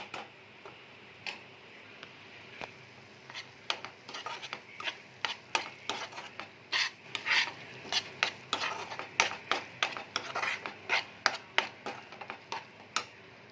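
Spice mixture and paneer in hot oil being stirred for potol dorma, a long run of quick rhythmic ladle taps and scrapes against the pan over a low background, without speech.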